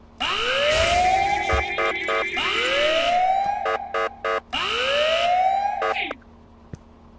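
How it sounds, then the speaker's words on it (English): Loud rising-and-falling electronic alarm siren from the Ice Scream 6 horror video game wails in repeated sweeping cycles, broken by short stuttering pulses, then cuts off abruptly near the end. "Sound the alarm!"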